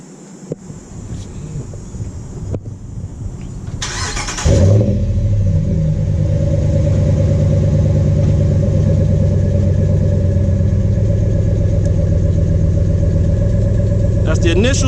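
A 2016 Ram Sport pickup is started warm: a starter whir, then the engine catches with a loud burst and settles into a steady, smooth, rumbling idle that continues close by for about ten seconds.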